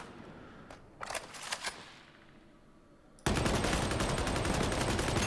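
A gun in Warhammer 40K Darktide fires a few scattered shots, then, after a short lull, erupts into loud, sustained rapid automatic fire that runs unbroken to the end.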